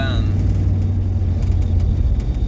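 A deep, loud V8 engine with throaty exhaust, a 350, idles steadily and continuously close by, filling the whole stretch.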